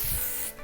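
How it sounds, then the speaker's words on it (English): Short, close hiss of hair texture spray misted underneath curls, one steady burst lasting about half a second before cutting off. "I spray it underneath and give my hair a little bit of texture."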